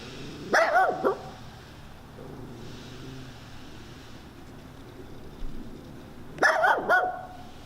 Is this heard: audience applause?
no